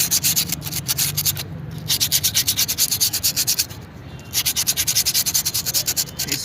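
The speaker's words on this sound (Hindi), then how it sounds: "देखिए अभी ऐसे सैंड पेपर से इस तरीके से ब्रेक शू को घिसना है।" Sandpaper scrubbed back and forth over a motorcycle brake shoe to strip off carbon buildup, a close, steady rhythmic rasping with brief pauses, heard alone.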